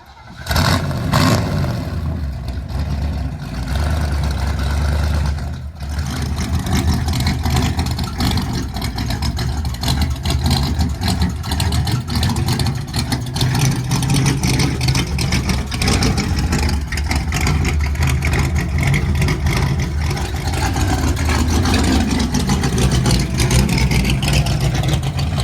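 A cold-blooded 1961 Mercury Comet engine runs loud and steady nearby, surging and revving repeatedly over a rough idle with a brief dip early on, throughout without talk.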